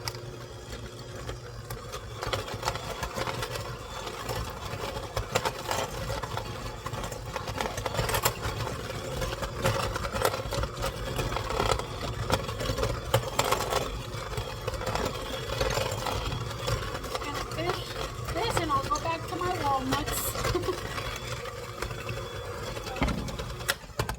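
Electric mixer steadily whirring as it creams butter and sugar for pumpkin oatmeal muffin batter, a continuous mid-level motor hum with faint scraping clatter, a voice speaking over it at times.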